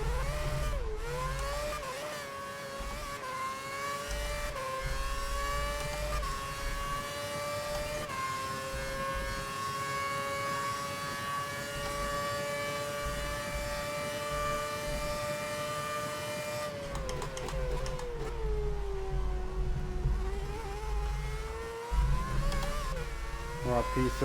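A Formula One car in the racing game F1 2011 holds a steady, high-pitched engine whine whose pitch glides up and down with revs and shifts, with a low rumble underneath. It sounds continuous and fairly close.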